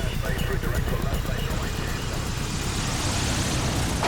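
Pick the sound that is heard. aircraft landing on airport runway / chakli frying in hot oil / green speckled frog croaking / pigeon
aircraft landing on airport runway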